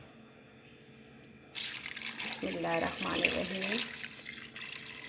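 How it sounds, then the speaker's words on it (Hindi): Water poured from a jug into a pressure cooker, a splashing gush that starts suddenly and runs for a few seconds. Someone speaks briefly over it. "ये हमने बस आधा जग के करीब पानी इसमें ऐड किया है"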